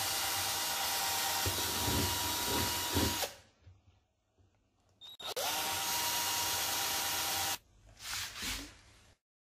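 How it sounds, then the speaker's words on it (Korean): An electric drill bores holes, alongside an awl, whirring loudly and steadily in two long runs separated by a quiet pause, followed by a shorter final burst. "드릴과 송곳을 이용해 구멍을 뚫어줍니다."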